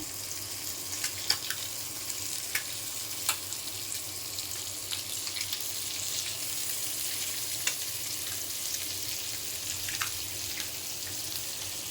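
Eggs and potatoes fry in oil with a constant crisp sizzle, close and even, broken by occasional small pops and clicks.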